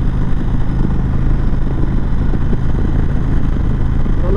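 A steady low rumble from the engine of an Indian Chieftain Dark Horse motorcycle riding in third gear at 50 mph, with wind noise over it. The sound stays loud and even the whole time, with no voices.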